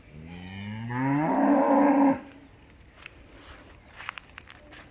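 A single loud cow moo, drawn out and rising for about a second before cutting off, followed by faint rustling and light footsteps on a farm.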